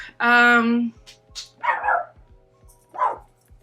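A pet dog nearby gives a drawn-out whining yelp, then a few short, sharp barks spaced a second or so apart, fairly loud against a quiet room.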